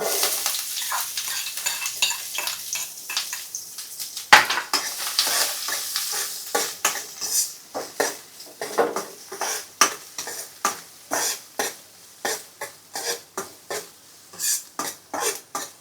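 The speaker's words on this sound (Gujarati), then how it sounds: "આપણી આ ડુંગળી સાતળવાની છે" Onions sizzle in hot oil with asafoetida while a spoon scrapes the pan in regular, repeated stirring strokes, close and clear, with no talking.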